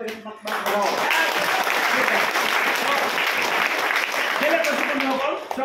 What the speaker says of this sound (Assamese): তো একবাৰ তালিয়া বজাও